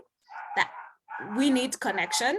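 A dog barks a few short sharp times close by, the barks mixed in with and partly overlapping a person speaking indoors.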